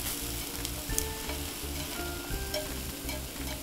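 Vegetables sear in a pan over a campfire-style setup, giving a steady dense sizzle and hiss as water cooks out, with faint crackles and a low rhythmic rumble underneath, all without speech.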